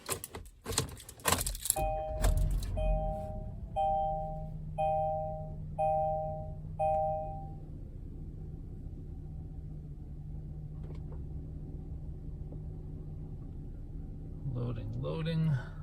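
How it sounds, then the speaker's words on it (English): A 2023 Kia Sportage being started with a traditional key: a brief cranking burst as the engine catches, a row of evenly spaced chimes, then a steady low idle hum, with faint interior rustle near the end. "Anyway, let's get the car started."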